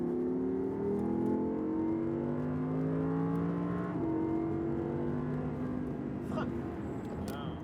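An Audi race car accelerates on a circuit, its engine note climbing steadily with a brief shift midway before rising again, and an instructor's voice talks over the drive.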